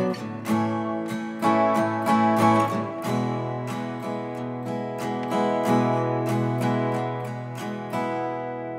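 Acoustic guitar strums the steady four-bar chord progression of a song in even rhythmic strokes, close and clear, with no voices.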